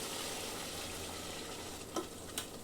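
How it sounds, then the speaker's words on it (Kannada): Mutton curry sizzling steadily in a pan after water is added, a constant close hiss broken near the end by two sharp splashy scrapes of stirring. "ಇದಕ್ಕೆ ಒಂದು ಅರ್ಧ ಗ್ಲಾಸಷ್ಟು ನೀರನ್ನು ಹಾಕ್ತಾ ಇದ್ದೀನಿ"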